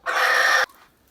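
A single loud, harsh squawk comes from a chicken in a netted aviary housing Bielefelder, Minorca and Barbezieux hens with a rooster. It lasts about half a second, then cuts off to near quiet.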